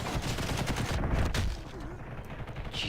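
Rapid machine-gun fire from the G.I.T.S.: First Assault shooter game, loud and continuous bursts throughout, dipping slightly midway before picking up again, with faint game sounds mixed in.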